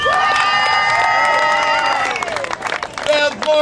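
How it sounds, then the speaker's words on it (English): An outdoor crowd at a Hermosa Beach Surfers Walk of Fame induction ceremony cheers, whoops and applauds loudly, the clapping and shouts fading into scattered claps at the end. "Bob Maestro, you're not clapping nearly hard enough"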